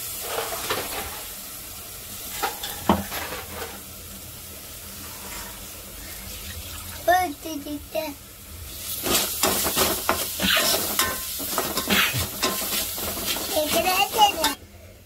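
Onion and coconut paste frying and being stirred in a pan for a crab curry, with scraping and sizzling through the clip and a busier burst near the end, plus some clatter and possible faint voices.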